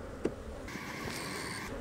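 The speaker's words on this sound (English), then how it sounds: "So the bees on that frame are mostly nurse bees." Honey bees buzz at an opened hive during a beekeeping inspection, a faint steady hum with a sharper buzz rising partway through, one small knock near the start.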